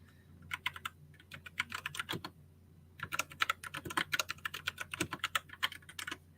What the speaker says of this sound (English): my keyboard's so loud